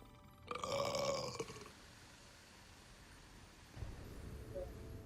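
A single loud, throaty burp from a character in the Hogwarts Legacy video game bursts out near the start and lasts about a second, followed by a low, quiet background.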